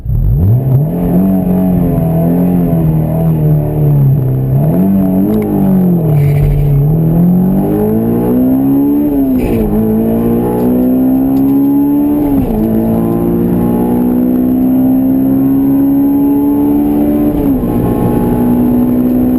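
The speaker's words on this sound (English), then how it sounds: "So my strategy here was to launch at a higher RPM since the tires were hooking more." A Honda S2000, autocross-prepped, launches hard at a drag strip from high RPM: a loud, close engine roar that climbs steeply through several gear changes, each shift briefly dropping the pitch before it rises again, with no talking.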